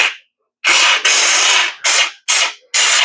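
A Wagner 915E power steamer's trigger releases a loud hissing spray in several short blasts of varying length, separated by brief silences, close to the listener; water built up inside the steamer.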